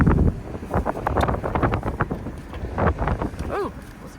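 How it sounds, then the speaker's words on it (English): Gusty wind buffets a microphone on the Gulf Coast at Ocean Springs near a marina, giving loud, uneven low rumbles and thumps that rise and fall throughout, with a brief voice near the end. "Oh, it's windy."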